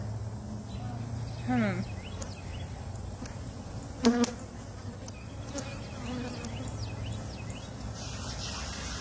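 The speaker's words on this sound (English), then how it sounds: "that's a lot of bees" Honey bees buzz around a colony, a soft steady drone with a few louder passes as individual bees fly close, and a person talks over it.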